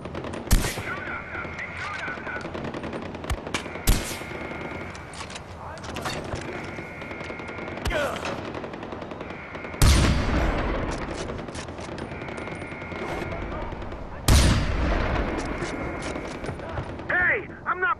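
Far Cry 4 gunfight, with bursts of machine-gun fire and single gunshots scattered through the battle and several louder, closer volleys, mixed with game noise and shouted voices.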